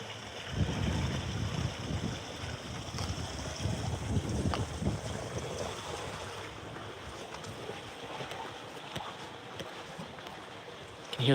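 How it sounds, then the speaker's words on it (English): Water rushes through channels beneath the streets of Fujiyoshida, a steady broadband roar with wind buffeting the microphone, continuous and fairly loud with no talk. "You can hear the water rushing underneath the streets."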